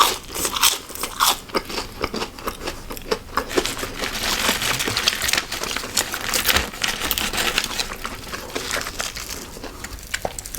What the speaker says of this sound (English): Trying their onion rings for the first time.